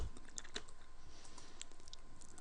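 Steady, quiet typing on a computer keyboard while entering a router ping command, rapid irregular key clicks running throughout at close range.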